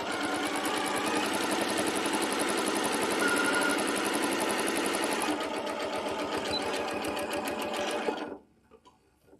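A sewing machine stitches a seam steadily and loudly for about eight seconds, backing up to reinforce the joint, with a slight change in its rhythmic whir midway before it stops abruptly into near quiet.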